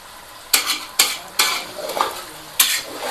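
Fish curry sizzles and fries in a pan while a spoon scrapes and stirs it, with several sharp metallic clinks against the pan and a steady crackle between them.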